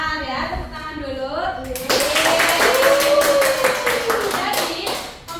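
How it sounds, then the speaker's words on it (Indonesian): A class of students claps in a small classroom, a bright crackle of many hands starting after a teacher's voice and continuing steadily as children's voices carry over it. "Tepuk tangan dulu."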